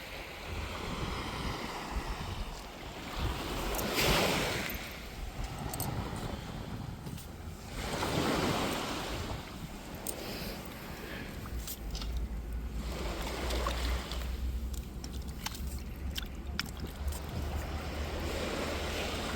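Sea waves wash in slow swells at the seashore while steady wind rushes past, a broad continuous roar that rises and falls every few seconds, with no voices.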